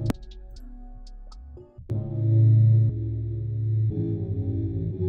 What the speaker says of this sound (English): So again, you can just use gross beat.